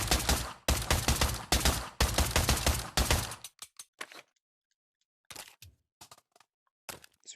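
Tactical SMG fired in the Pavlov VR shooting game at a gun range: rapid bursts of automatic fire for about three seconds, then scattered single shots and clinks of spent casings and handling.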